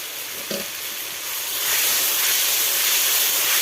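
Spice paste frying in a pan after a splash of water is added, a steady loud sizzle and hiss that swells after a soft clatter and then holds dense and close to the end, with no talking.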